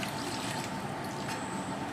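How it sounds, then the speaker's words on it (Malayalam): Milk pours steadily into a blender jar for a banana and egg milkshake, a continuous soft trickling and splashing close by, with no talking. "ഇനി നമുക്ക് പാലൊഴിച്ച് കൊടുക്കാം."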